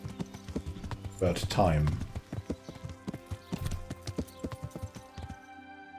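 Horse hooves clip-clop at a steady riding pace in Kingdom Come: Deliverance, with a whinny partway through and a voice speaking briefly over the rhythmic footfalls.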